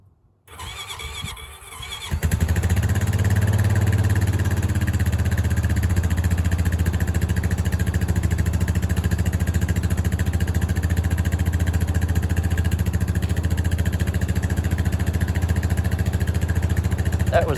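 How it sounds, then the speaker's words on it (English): A four-wheeler ATV engine cold starts in freezing weather: a brief cranking struggle, then it catches and settles into a loud, steady, throbbing idle that runs on unbroken. "So I'm going to start with the four-wheeler."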